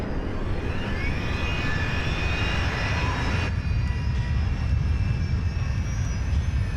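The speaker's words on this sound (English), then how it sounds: "engine number 4 roars to life." A loud, continuous Rolls-Royce jet engine roar as the airliner's number 4 engine starts up, with rising whine tones, steady and close, rumbling heavily throughout.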